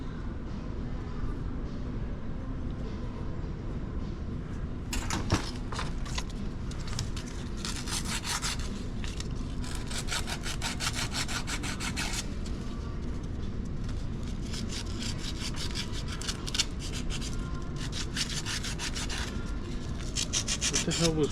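Dry scraping and rubbing inside a worn RV5 gearbox with a loose keyway, steady abrasive friction running throughout, with denser gritty bursts from the middle on, close and moderately loud with no talking.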